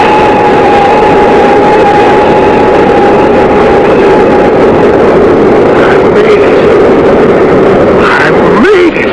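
A propeller airliner in a 1970s radio drama lands and brakes hard, a loud steady engine drone with a sustained tone that gives way near the end to a rising squeal and rumble as the brakes take hold.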